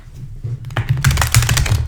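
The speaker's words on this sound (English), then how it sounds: "I just want to shuffle these cards." Tarot cards being shuffled by hand during a reading, a quick close burst of papery riffling and tapping after a quiet start, over a low background hum.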